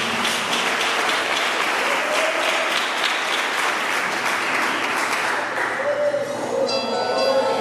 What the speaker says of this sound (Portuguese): Se você puder aplaudir ao Senhor,